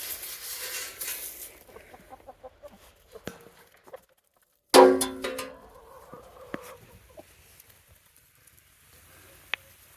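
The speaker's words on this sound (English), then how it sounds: "Now that the chickens are out, let's go feed them" Chickens cluck in short, scattered bursts, with light pattering and rustling nearby, and one louder burst of activity midway.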